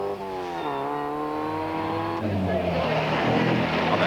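A Norwegian driver's MGB classic sports car pulls away at the start of a classic rally, its engine note rising steadily through the gears, loud and close, then giving way to broader engine and crowd noise.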